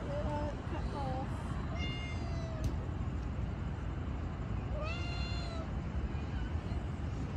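Several cats meow in short bursts in an outdoor desert setting, with clear repeated calls rising over steady traffic and wind noise, some nearer and some farther off.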